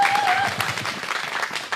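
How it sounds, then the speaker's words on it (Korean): An outdoor crowd at a Wednesday protest rally in Soseong-ri, South Korea, gives a brief, dense burst of applause with a few voices calling out over it. "큰 박수 부탁드립니다"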